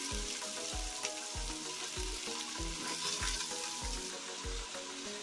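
Onions and mutton frying in hot oil for a Kashmiri-style curry, a steady loud sizzle with rhythmic low scraping knocks of stirring about twice a second, close up.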